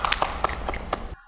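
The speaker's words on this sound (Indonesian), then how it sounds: "Tepuk tangan dulu buat Zahra." Audience applause at an Indonesian talk show about internships at the Ministry of Finance: a short burst of scattered, sharp hand claps close by that stops abruptly after about a second.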